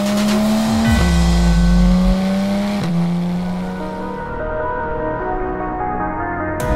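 Porsche 911 GT3 with a naturally aspirated 4-litre flat-six revving hard, its loud rising tone dropping sharply at two gear changes before settling into a steady high-pitched drone, close and alone.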